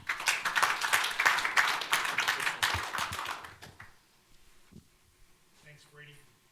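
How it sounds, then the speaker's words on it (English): Audience applause at a talk: a burst of clapping from a crowd for about three and a half seconds, then fading to quiet room murmur. "give him a quick round of applause, please."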